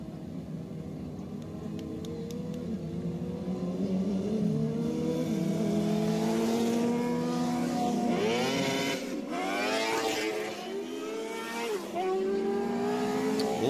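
Midget race cars at Southern Raceway rev and accelerate, engine tones rising and falling in overlapping sweeps from several cars, fairly loud and mid-distance against open track ambience.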